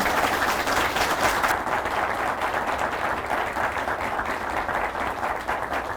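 A crowd applauds steadily, with dense overlapping clapping that holds at an even, fairly loud level throughout.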